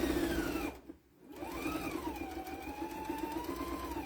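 A sewing machine stitches cross-hatching on a flag potholder with a loud, close mechanical whir. It halts briefly and then runs steadily again, its pitch wavering as the speed changes.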